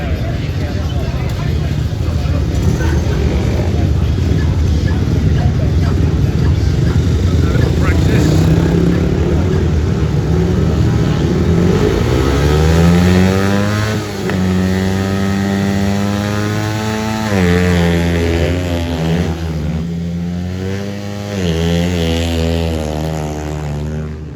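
Several motorcycles idle and rev while warming up before a start, a loud continuous engine drone with rising and falling rev sweeps toward the end, and people talking over it.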